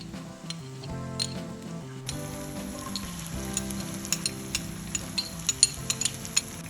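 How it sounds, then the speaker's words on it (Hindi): Finely chopped onion and garlic hit hot oil already seasoned with asafoetida while cooking daliya khichdi. A sudden loud sizzle bursts in partway through, then crackles steadily with sharp little ticks and pops, close by and with no talk. "और अब मैं डाल देती हूँ बारीक कटा हुआ प्याज एंड लहसुन।"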